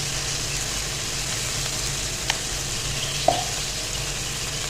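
Chicken for malai kabab cooks in a pan with a continuous, even sizzle and frying hiss, close by, broken by a couple of faint clinks as something stirs or touches the pan.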